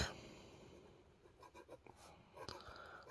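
NOREX 571 fountain pen writing a phrase on paper, with soft, close scratching strokes in quiet, irregular bursts and a few firmer taps.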